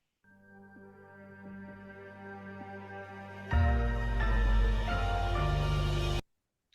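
A 2008 hard rock song intro opens with sustained synth chords and a pulsing tone, then drums and distorted guitars crash in loudly halfway through before an abrupt stop.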